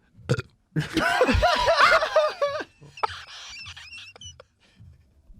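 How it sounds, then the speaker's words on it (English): A long, loud guttural burp close to the microphone, followed by a faint snicker and quiet sounds. "I hate burping as humour as well"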